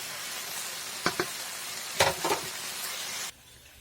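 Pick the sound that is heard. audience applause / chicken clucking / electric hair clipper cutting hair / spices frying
spices frying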